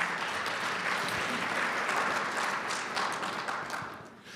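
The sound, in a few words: audience applause for the sponsors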